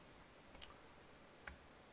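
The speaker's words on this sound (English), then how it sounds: "I just pressed enter" Computer keyboard keys are pressed in a quiet room: a quick pair of soft clicks followed about a second later by one more sharp click.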